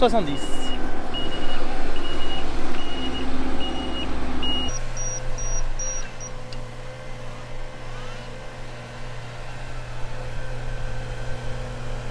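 A new 2020 Claas Lexion combine harvester sounds a steady train of reversing beeps while backing up to hitch a 7.70 m Convio Flex draper header. The engine drones underneath, then the beeping stops and the engine note shifts.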